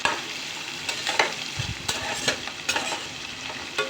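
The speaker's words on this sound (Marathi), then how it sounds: "ह्याला या तेलामध्ये तळून घेणार आहे" Onion sizzles steadily in oil in a pan while a utensil stirs and scrapes with occasional clinks; no voices, the frying hiss continuous throughout.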